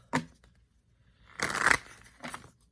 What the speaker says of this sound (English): So I'm just going to shuffle like this.